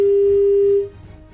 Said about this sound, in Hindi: फोन डिस्कनेक्ट हो गया है